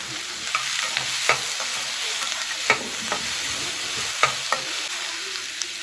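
Sliced onions and chopped green chillies sautéing in oil in a pan, a steady close sizzle punctuated by several sharp scrapes and taps of a spoon stirring against the pan, with no talking.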